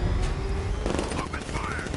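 Bursts of gunfire in Batman: Arkham Knight, a steady rattle of shots mixed with game noise and voices shouting over the action.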